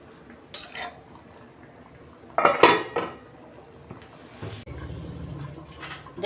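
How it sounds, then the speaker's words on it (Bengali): A metal pot lid lifted off a pan of mutton curry with sharp clanks and scrapes, followed by a spoon stirring and knocking against the pot, fairly close and with no talking. "দেখুন বন্ধুরা ঢাকনাটা আমি খুলছি, একটু নেড়ে দিচ্ছি আমি।"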